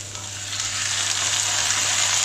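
Food sizzles steadily in a pan after a spoonful of water is added, a loud continuous hiss and crackle that builds slightly and holds, with no talking.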